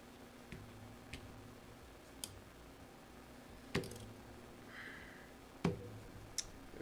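Plastic keycaps from a Grid650 keyboard build with Gateron Black Ink switches are handled and set down, giving a few sparse, sharp clicks and light taps spread over a quiet background.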